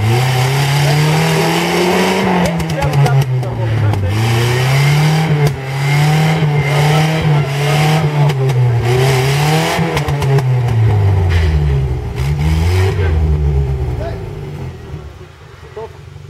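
Nissan Terrano engine revving under throttle, a loud, close, wavering engine drone that rises and falls repeatedly and fades near the end, with people shouting over it.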